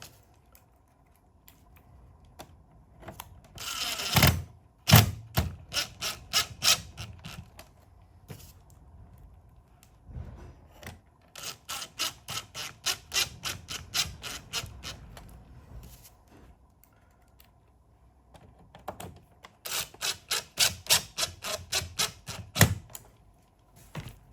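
Screws are snugged down during a car stereo install in a 2011-2013 Jeep Grand Cherokee, heard as bursts of quick, close ratcheting clicks and creaks separated by pauses. The level is fairly quiet overall and there is no speech.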